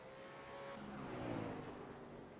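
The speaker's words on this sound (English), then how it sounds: "Soft engine noises on the camera" Race car engine in a V8 series event at Long Beach, picked up faintly by an onboard camera as a steady, soft drone with a slight rise in revs partway through.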